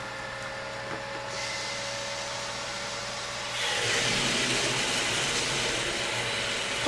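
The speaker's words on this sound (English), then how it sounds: "I have to deal with the water filter noise" Water filter running inside a garage gives a steady mechanical hum with a low tonal drone, swelling into a louder broadband whoosh partway through, with no talking.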